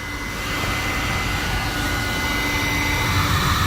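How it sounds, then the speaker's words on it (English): A heat source shrinks heat-shrink butt connectors on trailer wiring for an LED clearance or side marker light, giving a steady, close, loud blowing roar that holds evenly throughout with no talk. "Now we'll go ahead and take a heat source and shrink our butt connectors down."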